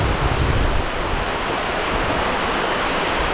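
A Guatemalan river rushes past during a rope crossing, its flowing water making a steady, dense, close roar that never lets up and has no voices over it.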